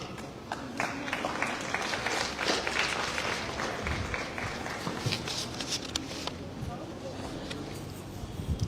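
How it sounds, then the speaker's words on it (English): A crowd at a Model United Nations event claps continuously for several seconds, a dense patter of applause that swells and then gradually thins. "Please keep on applauding."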